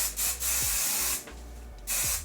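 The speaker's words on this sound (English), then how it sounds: "And then we're gonna lightly spray some of the hairspray." Close, hissing bursts of hairspray from an aerosol can, three short sprays separated by brief pauses, with faint handling noise between.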